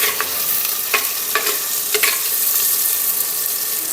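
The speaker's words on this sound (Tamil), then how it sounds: "கொஞ்சம் அனல் சிம்மில் வச்சு லைட்டாக அப்படி வறுத்துக்கிட்டு இருக்கிறீங்களா" Garlic, shallots, dried red chillies and rock salt fry gently in oil over a low flame in a clay pot: a steady, close sizzle with a few soft stirring scrapes and clicks scattered through it, no voices.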